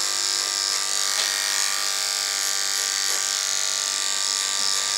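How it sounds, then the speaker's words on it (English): Electric hair clippers buzzing continuously at close range during a tapered haircut, a steady high-pitched motor hum with faint snips and changes in tone as the blade moves through hair. "So the clipper is in the open position."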